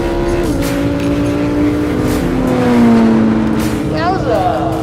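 Lamborghini and Porsche luxury cars launch side by side in a drag race, engines droning loudly and steadily with rising pitch sweeps as they accelerate, while a person talks over the noise.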